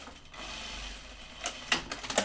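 A sewing machine stitches a dress seam over thick serging under the presser foot, a steady muffled whir with a few sharper clicks near the end.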